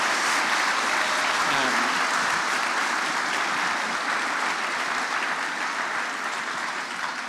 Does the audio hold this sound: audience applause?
yes